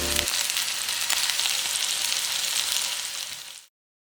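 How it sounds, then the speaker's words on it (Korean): Twelve large meatballs fry in three spoonfuls of olive oil in a pan over medium-low heat, giving a steady, dense sizzle that holds loud and even before cutting off abruptly near the end. "달궈지면 큼직한 미트볼 12개 넣고 골고루 노릇하게 색깔 냈다"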